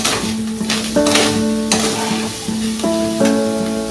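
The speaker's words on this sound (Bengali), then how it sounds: "চিনিটা দিয়ে আমি কিছু সময় এটা ভেজে নেব" Sugar stirred and fried in a pan for takhti pitha made with rice flour and semolina, a steady sizzle with scraping stirs running beneath a tonal melody.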